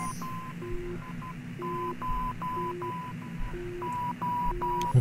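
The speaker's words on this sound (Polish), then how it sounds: "Tam jakiś sygnał radiowy." Repeating electronic radio signal beeps from the ADR1FT space game, short tones alternating in a steady pattern over a low hum, clear and continuous throughout.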